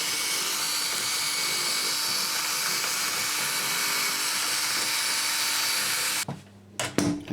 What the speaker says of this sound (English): I'll just use the drill again.